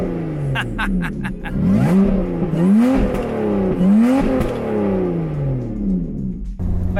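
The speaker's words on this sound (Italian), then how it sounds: "sentite come si sente bene il compressore volumetrico. Adesso apriamo le valvole." Supercharged Lotus Evora 400 engine revving hard with the exhaust valves open, loud repeated rising and falling revs with a raspy growl from inside the car, a brief word spoken.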